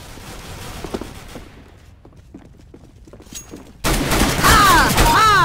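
Gunfire in Counter-Strike gameplay: scattered shots crackle at moderate level, then a loud, sustained volley of rapid shots with ringing ricochets and whizzes erupts close by and continues to the end.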